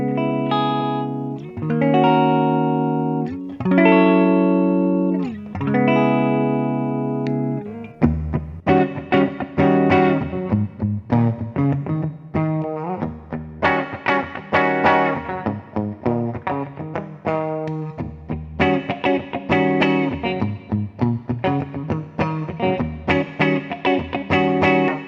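A 2005 Gibson Les Paul Standard electric guitar plays on its middle pickup position with a clean, chimey tone. Sustained chords come first, then a run of quicker picked notes and chord stabs, loud and close with no talking.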